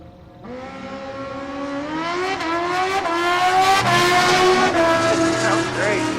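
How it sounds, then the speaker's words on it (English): A Suzuki-powered dragster at a bracket drag race launches and screams down the strip, its engine note climbing steadily in pitch and loudness through rapid gear changes, close and dominating for several seconds. "Suzuki powered dragster."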